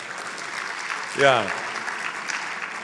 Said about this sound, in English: Give Ella a big hand of applause.